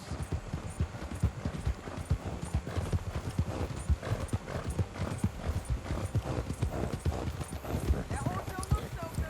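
Rapid, steady clip-clop of horse hooves trotting close by in Red Dead Redemption 2, with a short whinny near the end over faint background ambience.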